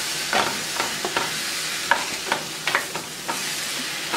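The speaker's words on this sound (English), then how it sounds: "we just want to go ahead on and stir. Make sure we mix all that in there like that." Ingredients for a simple budget meal are stirred together in a pan, with close, irregular scraping strokes over a faint sizzle and no talking.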